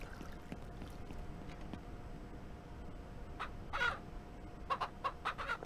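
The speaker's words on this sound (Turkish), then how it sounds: "Bir tavukları gözden geçireyim." Chickens clucking in the farming video game Ranch Simulator, a few short, fairly faint clucks near the end over a low, steady background hum, with no talking.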